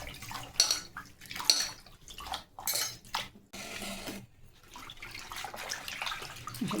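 Pumpkin leaves are swished and lifted in a basin of water, with splashing, dripping and light knocks of a metal pot coming in uneven bursts and pauses, up close and without any voices.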